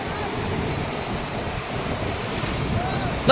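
Steady roar of ocean surf at Panambur beach mixed with gusting wind noise, continuous throughout, ending with a brief sharp sound.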